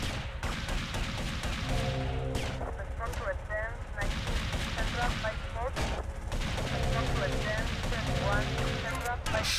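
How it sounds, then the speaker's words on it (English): Gunfire in GTA Vice City, including shotgun blasts, crackles in repeated bursts across a busy game scene, mixed with music and other game sounds, with voices talking over it. "Someone's got a shotgun, I don't like it."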